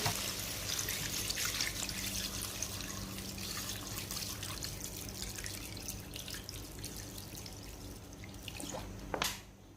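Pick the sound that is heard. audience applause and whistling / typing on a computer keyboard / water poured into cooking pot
water poured into cooking pot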